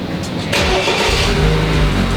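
A BMW 328i engine cranks and catches, then revs steadily at close range, loud and continuous with no talking over it.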